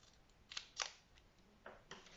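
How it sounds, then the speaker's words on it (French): Small scissors snip double-sided tape for a handmade card, giving a few quiet, sharp, close clicks spaced irregularly over near silence. "Mes petits ciseaux."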